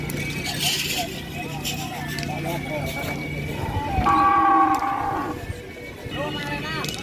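A large heavyweight cow lets out a loud, drawn-out moo close by, amid outdoor crowd chatter and background noise at a cattle training gathering.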